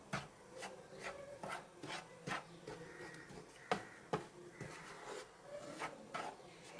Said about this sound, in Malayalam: ഇളക്കി കൊടുത്ത് ഇളക്കി കൊടുത്ത് നമ്മൾ അമൃതപ്പൊടി വേവ് റെഡി ആവോളം ഇളക്കി കൊടുക്കണം